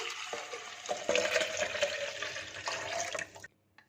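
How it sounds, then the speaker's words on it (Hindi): Room-temperature chocolate milk is poured into a blender jug, giving a steady splashing liquid stream that stops abruptly near the end, close and moderately quiet with no talking. "चॉकलेट मिल्क को ब्लेंडर जग में शामिल कर देंगे।"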